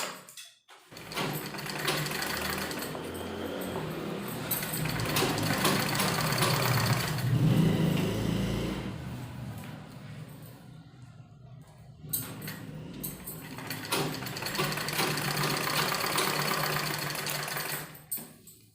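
A sewing machine stitches trouser fabric in long, fast whirring runs, pausing briefly between passes before starting up again.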